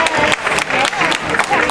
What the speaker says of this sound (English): How about a warm round of applause for our little violinists